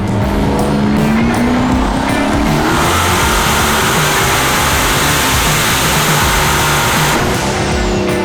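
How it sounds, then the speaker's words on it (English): A turbocharged LS V8 in a Fox-body Mustang screams through a dyno pull. The roar is loud and sustained, rising in pitch to a high-rpm peak before easing off near the end, with no voices. "We're gonna rev it a little bit higher just to see if it keeps making power."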